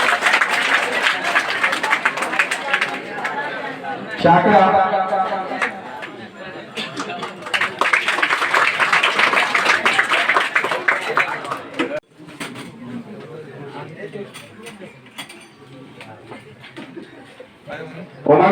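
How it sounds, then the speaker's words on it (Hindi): Village audience in Ekhatha, Madhubani, Bihar applauding students at an exam-results ceremony; bursts of crowd clapping mixed with chatter, while someone speaks over the noise and the applause thins toward the end. "फिर भी ताली बजाने का कंजूसी कर रहा है"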